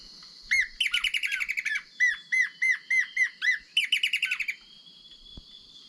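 A recorded bird duet played back for birding: a loud, close series of repeated squawking, chirping notes in rapid rhythmic bursts, stopping abruptly, then near silence.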